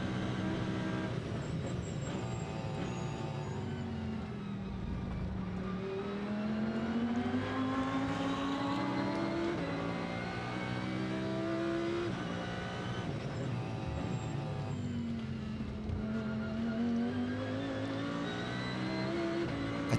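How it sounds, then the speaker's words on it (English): An Audi V10 race car engine howls at the Daytona 24-hour race, its pitch rising and falling through repeated upshifts, a continuous moderately distant roar with no talk. "A tortured Audi V10 engine, the soundtrack to Sunday morning from Daytona International Speedway."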